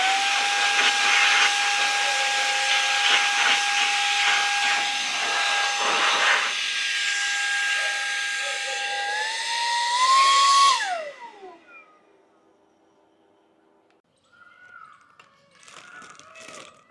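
An Autofy Storm 3 portable vacuum cleaner for car and home runs with a loud, steady hissing whine for about eleven seconds, then shuts off and winds down, followed by faint handling noises.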